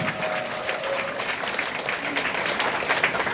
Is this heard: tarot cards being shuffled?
no